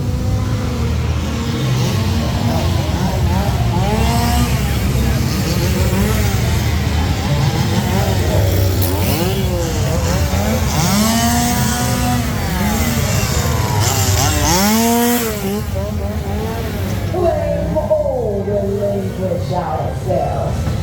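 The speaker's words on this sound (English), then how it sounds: "I was wondering where all the chainsaws were" Chainsaws run loudly and continuously nearby at a Halloween horror theme park event, repeatedly revving up and dropping back in pitch, with voices faintly underneath.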